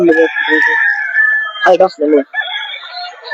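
Many chickens cluck and squawk nearby in a poultry shed in a dense, overlapping chorus, with a few louder sharp calls breaking through.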